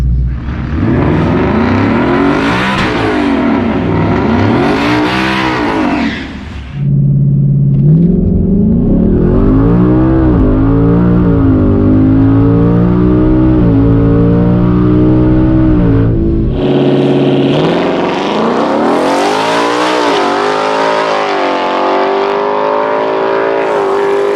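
A turbocharged Ford Mustang, boost turned down to about 7 pounds, makes a drag strip pass: a loud, close engine roar climbs steadily in pitch, dips briefly at each gear change and winds up hard again, with no talking.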